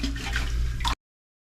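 Water splashes and trickles as a wet sponge rinses excess grout off freshly laid tiles on a bathroom vanity backsplash, one short close burst that cuts off abruptly.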